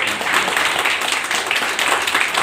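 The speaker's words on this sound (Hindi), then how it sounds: "तो जोरदार ताली होनी चाहिए।" Audience at a group planning meeting in Vatva breaks into dense, steady applause, many hands clapping together in a continuous loud patter.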